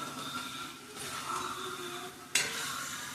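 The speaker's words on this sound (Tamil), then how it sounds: "அந்த எண்ணெயோட இந்த மிளகாத்தூள் வதங்கும் போது நல்லாயிருக்கும்." Chilli powder sautés in hot oil while being stirred, giving a soft, steady sizzle with light scraping, then a sharper scrape of the spoon on the pan near the end.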